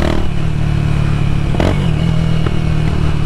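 A motorcycle with a slipping clutch is ridden over a bumpy track, its engine a loud, steady drone up close, with a couple of sharp clattering knocks.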